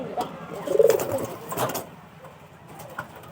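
Pigeons coo in a low, rolling burst near the start, with a few softer coos later; the birds sound close and moderately loud amid faint background noise.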